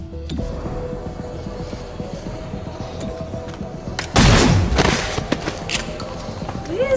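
In the tactical game XCOM Chimera Squad, a sudden heavy scattershot blast bursts out over quiet background game sounds, one loud booming volley that fades after about a second, followed by a few faint later pops.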